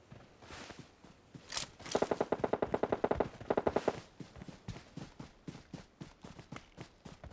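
Gunfire from an AMR sniper rifle in a shooting video game, heard as a dense cluster of sharp, rapid cracks in the middle, trailed by scattered quieter impacts and footstep-like taps.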